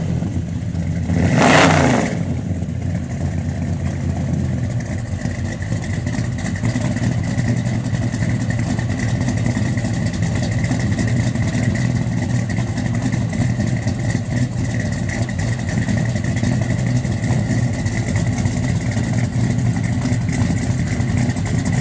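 A 1970 Chevrolet Chevelle SS 396 V8 muscle car rumbles at a deep, loud idle after one short rev near the start, the heavy exhaust pounding steadily.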